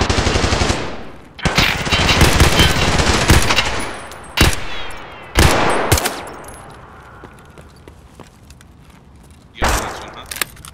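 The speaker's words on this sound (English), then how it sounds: "There's another team in the back. They're fighting. They're shooting at something else." Gunfire in an online shooter, with long rattling machine-gun bursts up close followed by several separate short volleys, loud and punchy with quiet gaps between them.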